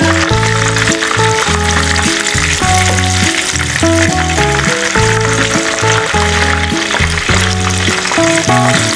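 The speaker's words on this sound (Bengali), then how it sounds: "কোফতা ব্রাউন হয়ে গেছে, ভাজা হয়ে গেছে," Nargisi kofta sizzles steadily as it browns in hot oil, a loud continuous frying hiss heard under prominent music.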